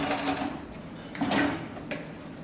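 A long arm sewing machine driven by a variable speed servo motor stitches tent fabric, giving a steady close mechanical whir and patter that rises briefly in speed midway with no talking.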